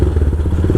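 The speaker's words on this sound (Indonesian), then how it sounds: "cuma ganti knalpot doang. Yang mana memang bikin suaranya lebih gahar ya kan" A Royal Enfield Himalayan motorcycle fitted with an aftermarket exhaust idles close by, giving a loud, deep, steady thumping burble with rapid pulses, heard alone.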